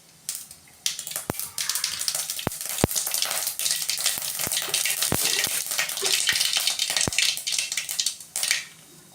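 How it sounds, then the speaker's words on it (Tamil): Mustard seeds sputter and pop in hot oil with a steady bright sizzle, sharp individual cracks scattered irregularly throughout, loud and close, with no one talking. "இப்போ கடுகு போட்டாச்சு, அது நல்லா பொரியுது பாருங்கள்"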